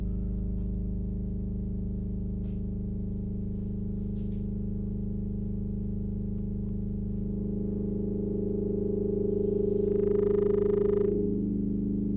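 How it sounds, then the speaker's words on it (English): A sustained synthesizer drone with steady low tones and a washy, reverberant tail, brightening briefly near the end. "Try reverb."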